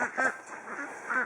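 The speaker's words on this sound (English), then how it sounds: "here come the ducks." Ducks quack in a few short, nasal bursts close by, with a steady outdoor hiss behind them.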